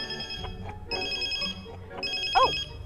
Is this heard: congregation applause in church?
no